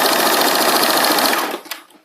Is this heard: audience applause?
no